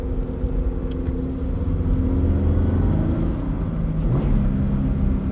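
A Subaru BRZ driving in sport mode, its engine a steady, loud, low drone with a slight pitch change near the end, heard from inside the cabin with no talking.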